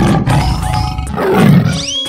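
A tiger roar from an animal-sound cartoon with painting and transforming animals, loud and sustained for about two seconds, with a growling rumble and a bright tone layered over it, heard alone with no voices.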